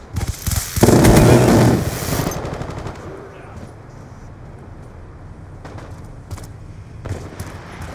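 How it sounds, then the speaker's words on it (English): A Death Machine minigun firing in Black Ops 2, a loud, rapid continuous burst close up for about two seconds, followed by quieter distant battlefield gunfire and a few scattered pops. "Friendly death machine spinning up."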